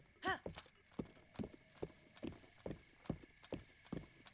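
Horse hooves clip-clopping at a steady walking pace along a rocky mountain trail in a Zelda video game, with a short whinny at the start; regular, moderately close hoofbeats.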